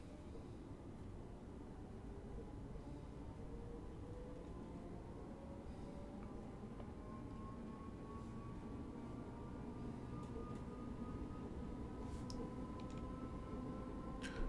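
A Class 313 electric train in Train Simulator rolls steadily along with a continuous low rumble and rising motor whine, constant and fairly loud throughout with no voices.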